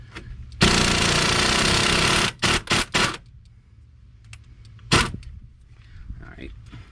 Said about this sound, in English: we can hit it with the hammer to knock it through